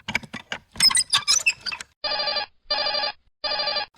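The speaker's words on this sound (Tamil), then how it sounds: "இது என்ன ஃபோன் அடிக்குது வீட்டுக்குள்ள?" A telephone rings inside a house in three loud, evenly spaced bursts of electronic ringing, following a stretch of indistinct voice and clattering.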